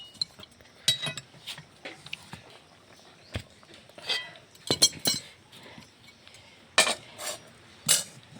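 A cooked vegetable curry pot is taken off the stove, giving scattered metallic clinks and clanks of pot, lid and utensils, sharp and close with quiet gaps between.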